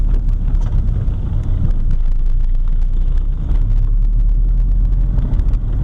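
A 1979 VW Rabbit with a 1.6L diesel engine drives along, giving a loud, steady, continuous engine and road rumble with wind buffeting and no pauses.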